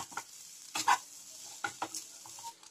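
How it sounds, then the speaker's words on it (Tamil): Grated coconut is stirred and dry-roasted in a pan, with several scraping, rustling strokes and light sizzle coming in short bursts between quieter moments. "அதே பாத்திரத்தில் நான் தேங்காயும் வறுக்க போகிறேன், லைட்டாக ஈரப்பதம் போகணுன்னு வறுக்க"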